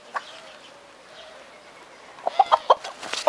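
Jersey Giant chickens cluck in a quick series of short, close calls toward the end, after a quieter stretch with faint background noise.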